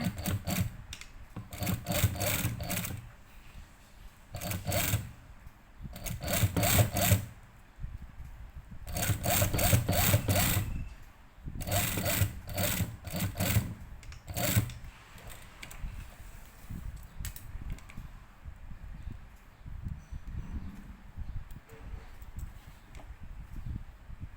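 Sewing machine stitching a zippered patchwork bag, running in repeated short bursts of rapid stitching with brief pauses between them, fairly close, then quieter handling noise toward the end.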